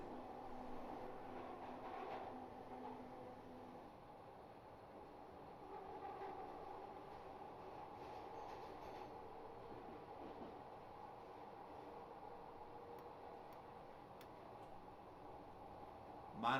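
A Glasgow Subway train runs the Outer Circle in manual mode, giving a steady, continuous rumble and tonal rolling hum from inside the car that carries on throughout, with a sharp knock at the very end.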